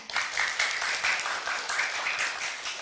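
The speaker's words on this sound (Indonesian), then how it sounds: "Saya boleh minta tepuk tangannya?" Brief applause from a studio audience welcoming Pak Kasam, a legislative candidate, on an Islamic-themed Indonesian TV program: a short, moderately loud patter of clapping with no talk.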